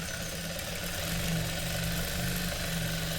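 Domestic sewing machine stitching blouse fabric, a steady continuous mechanical hum and whir running throughout at constant loudness.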